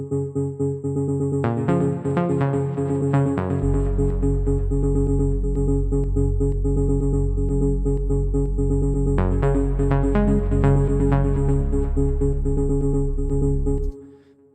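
Deep house synth instruments built in the Serum synthesizer play a sustained, layered chord progression with a deep low end and a bright high shimmer, loud and continuous, with no voices, then cutting off near the end.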